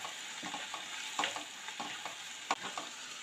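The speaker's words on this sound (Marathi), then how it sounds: "आता मी यात हिरवी मिरची आणि कढीपत्ता घालते. आपण आता हे सुद्धा परतून घेऊया छान." Onion, green chillies and curry leaves sauté in a pan for dum aloo, a steady close sizzle with a spatula scraping and stirring at irregular intervals, one sharper clack partway through.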